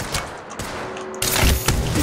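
Rapid gunfire in an Apex Legends Arenas match, a quiet stretch of scattered shots followed by a louder close burst of fire, with no talk.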